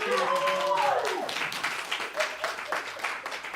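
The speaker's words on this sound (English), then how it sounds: "You can help me in just recognizing Carol with the applause." Conference audience applause breaks out just after a voice speaks briefly, then continues as a dense, uneven crowd of claps at moderate loudness in a large hall.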